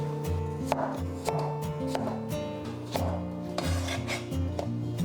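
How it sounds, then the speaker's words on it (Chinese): A knife chops a celtuce stem into strips on a cutting board, giving a quick, regular series of close, crisp knocks over a low musical background. No one speaks. "然后给它改刀切条"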